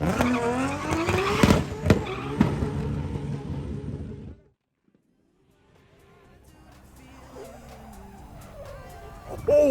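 A high-powered race SUV of 1,500 horsepower or more spins sideways on a Dubai drag strip, engine roaring with squealing, skidding tires up close, then a sudden silence before a distant rumble slowly rebuilds.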